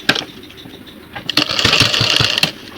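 Sewing machine stitching a jeans jacket corner, running in short bursts with a steadier, louder whir of needle and motor toward the end, close by.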